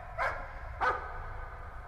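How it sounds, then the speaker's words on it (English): Dog barking in the horror video game Layers of Fear, two distinct barks about half a second apart, moderately clear over a low background hum, with no one talking. "Let me know if you can hear this dog."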